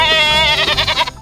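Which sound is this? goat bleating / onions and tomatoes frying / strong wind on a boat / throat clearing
goat bleating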